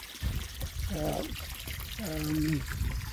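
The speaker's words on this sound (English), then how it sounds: "I'm just topping up the water in the pond" Water pours into a garden pond to top it up, a continuous close trickling splash under a voice.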